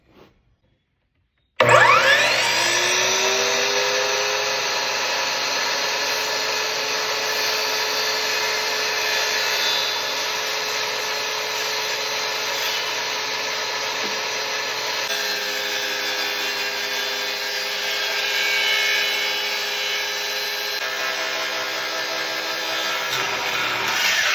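After a moment of silence, a loud, continuous grinding cut through a waterline pipe starts and runs steadily for over twenty seconds with little change in intensity.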